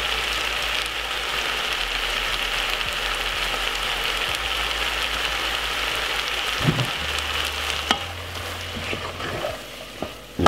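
A pot of callaloo simmers on the stove with a steady, soft bubbling hiss throughout, a few faint utensil clicks near the end.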